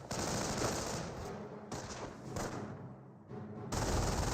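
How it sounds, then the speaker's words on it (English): MG42 machine gun in Company of Heroes, firing in sustained bursts of dense rapid gunfire with brief breaks, loud and close amid battlefield noise, no speech. "MG42 does fire."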